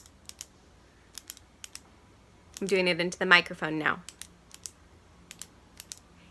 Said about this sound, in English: Did you guess clicking a pen?